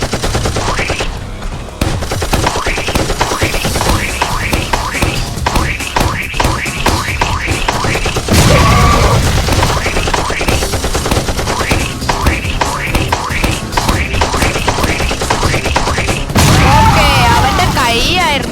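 Rapid, continuous gunfire crackles loudly and almost without pause, with heavy booms now and then, in a Roblox firefight.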